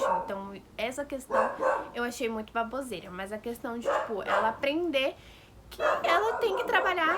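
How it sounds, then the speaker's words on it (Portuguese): A dog barks somewhere in the background, faint and intermittent beneath a person's continuous nearby talking. "provavelmente vocês estão ouvindo o cachorro latindo"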